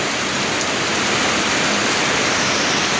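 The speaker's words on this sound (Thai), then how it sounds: "พอดีฝนตก" Rain falls steadily in a continuous dense hiss, loud and close, with no other sounds standing out.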